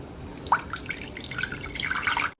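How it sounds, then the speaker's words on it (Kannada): Water pours into a pressure cooker, a short, close splashing trickle that grows slightly louder before stopping. "ಎರಡು ಕಪ್ಪಷ್ಟು ನೀರು ಹಾಕ್ತಾ ಇದ್ದೀನಿ"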